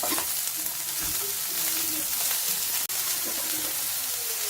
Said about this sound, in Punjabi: ਗ੍ਰੀਨ ਐਂਡ ਯੈਲੋ ਕੈਪਸਿਕਮ ਤੇ ਕੈਬੇਜ ਹਾਈ ਫਲੇਮ ਤੇ 1 ਸੈਕਿੰਡ ਲਈ ਭੁੰਨ ਲਵਾਂਗੇ ਇਸ ਨੂੰ